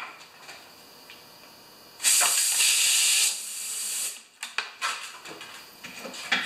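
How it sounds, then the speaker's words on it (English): Compressed air blasts through the carburetor of a Craftsman lawn mower as one loud, close hiss of just over a second, followed by quieter scattered hissing and clicks. "Blow some air through there."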